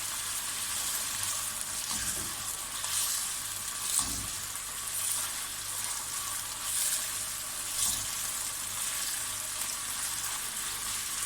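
One pound of chicken fries in hot oil in a kadai with a steady, loud sizzle and crackle, broken by a few clacks of stirring.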